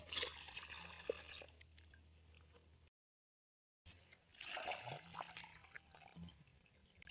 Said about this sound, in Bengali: হায়াত এবার জল ভরবে, নাও জল ভরো পুকুরে।